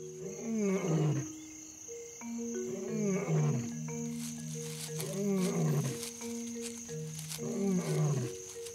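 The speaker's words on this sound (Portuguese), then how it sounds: "também ouviu os rugidos do leão" Lion roaring in the African savanna: a series of deep, grunting roars repeating in rhythmic bouts, loud and fairly close, with other wildlife and birdsong faintly in the background.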